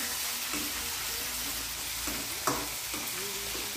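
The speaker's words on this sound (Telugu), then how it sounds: "అవి మిక్స్ చేసుకొని బాగా వేయించుకోవాలి." Dried red chillies being stirred and fried in a pan for an Andhra-style brinjal chutney, with a steady close sizzle and a few soft scraping strokes, no voices.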